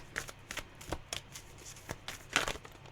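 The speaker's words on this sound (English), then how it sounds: "It's such a difficult deck to shuffle, this one, because it's so thickly laminated." Thickly laminated tarot cards being shuffled by hand, the stiff cards sticking together, producing a series of short, crisp riffling bursts at an uneven rhythm, close and fairly quiet, with no talking.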